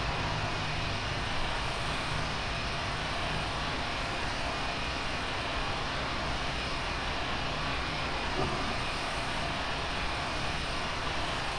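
Steady, unbroken roar of a Boeing 737-800's jet engines in Flight Simulator X, flying in extreme low visibility, a broad even rumble and hiss that holds at constant loudness throughout with no voices.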